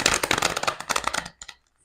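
Tarot cards shuffled by hand give a quick, crisp riffling crackle for about a second and a half, then fall silent, close and alone with no voices.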